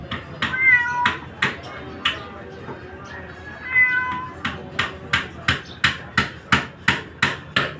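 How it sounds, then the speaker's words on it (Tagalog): A Persian cat meows several times up close, drawn-out plaintive cries over a steady series of sharp tapping knocks that keep a regular beat toward the end. "Persian cat ito."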